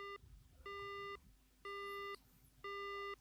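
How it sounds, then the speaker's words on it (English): In the horror game Spirit Hunter: Death Mark, a phone line goes dead with a repeating electronic busy tone, four evenly spaced beeps separated by short gaps over a faint low hum. "The phone goes dead."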